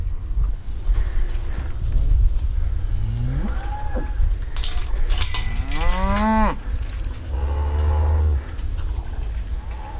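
Cattle being caught and let out for processing moo repeatedly, with drawn-out calls that rise and fall against a steady background rumble of pen noise.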